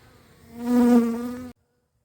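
A single honeybee buzzes close by near a hive in midwinter, a steady droning hum that swells and then cuts off abruptly, alone without talk.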